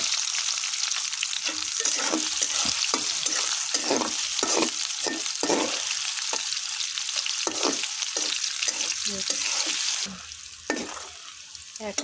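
Onions and bay leaves sizzle steadily in hot oil while being stirred, a loud continuous frying hiss broken by repeated scraping strokes of a spoon, with no one talking.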